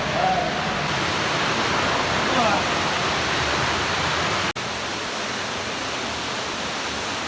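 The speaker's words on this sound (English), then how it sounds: "That looks like the waterfall right there." Steady roaring wash of a waterfall inside a tunnel fills the space, a dense broadband rush that echoes as if enclosed, continuous throughout with a brief dropout near the end.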